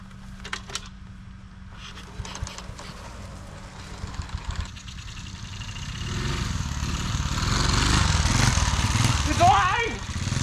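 A Honda CT70 pit bike's small engine catches after a bump start, its rough running swelling louder and steady toward the end while people talk and cheer over it.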